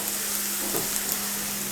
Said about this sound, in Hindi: अल्हम्दुलिल्लाह लहसुन को अच्छे से फ्राई कर लेंगे